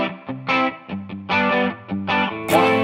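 A distorted electric guitar plays a song's chord progression in short, rhythmic strummed chord hits separated by brief gaps, loud and close with no talking.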